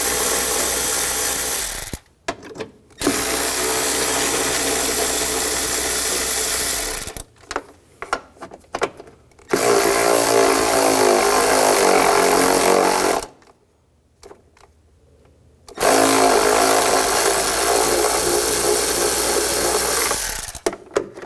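A power tool fitted with a 10mm socket whines loudly in three long bursts separated by short pauses, spinning out transmission mount bolts on a 2013-2019 Ford Escape 2.0L, with no talking.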